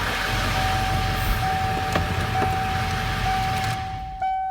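A Ford Power Stroke van engine idles steadily in gear, a low continuous rumble with a faint steady whine, close and even throughout, easing off near the end.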